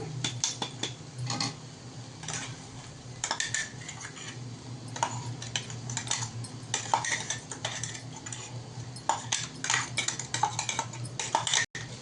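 Garlic paste being stirred into a pan of bitter gourd curry with a spoon, giving steady scraping and clinking of utensil against the pan, close and continuous with no talk.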